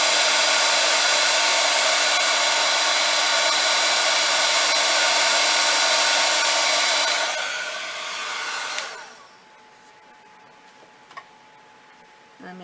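Heat tool drying embossing powder, a loud, steady blowing whir held close for about eight seconds before it cuts off, followed by quiet with a few small clicks.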